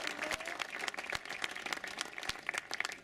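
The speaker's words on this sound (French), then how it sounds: "Sous vos applaudissements pendant 10 secondes." Crowd applause for the winner of an international cyclo-cross race at Lanarvily, a steady, dense patter of many hands clapping at some distance, with no voices over it.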